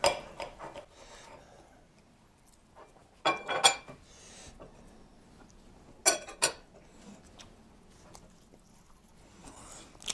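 A knife and fork cut the rim off a salt-and-pepper pork chop on a plate, with a few sharp scraping clinks of cutlery against the dish between long quiet stretches, close and fairly soft.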